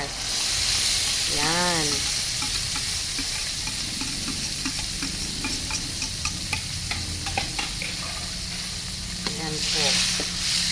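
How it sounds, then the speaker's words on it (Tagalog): Sardines fry in a pan with a loud, steady hiss and sizzle, close to the listener. A few brief spoken words come through over the frying. "Tapos ito na, ayan o, ilalagay ko na yung sardinas."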